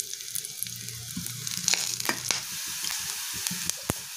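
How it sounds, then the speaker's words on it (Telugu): Cumin, mustard seeds, chopped onion, green chili and curry leaves frying in hot oil, a continuous close sizzle with scattered crackles and pops from the seeds, plus occasional stirring scrapes. "జీలకర్ర, ఆవాలు, ఉల్లిపాయ తరుగు, పచ్చిమిర్చి తరుగు, కరివేపాకు వేసుకొని ఫ్రై చేసుకోవాలి"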